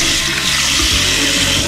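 Water rushing and gurgling steadily as it drains quickly from a newly installed washbasin, loud and close throughout, with no talking.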